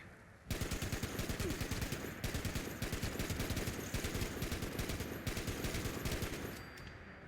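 A .50 caliber machine gun in Fallout 76 firing a long, continuous burst of rapid heavy shots in an even rhythm for about seven seconds, loud and alone without any voice.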